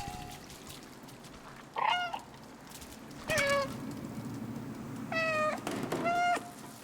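Cat meows from the video game Stray, three or four short, tonal calls spaced apart over a soft ambient background, fairly close and clear.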